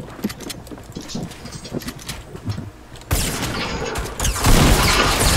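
A minigun firing in Fortnite, scattered shots at first and then a sustained, dense roar of rapid gunfire that grows louder toward the end.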